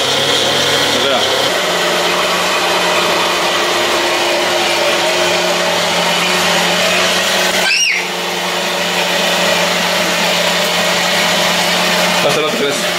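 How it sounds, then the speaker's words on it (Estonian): A blender whirs loudly and continuously while blending a smoothie, its motor drone steady for the whole stretch with a brief dip near the middle and voices talking over it. "Las ta natukene blenderdab."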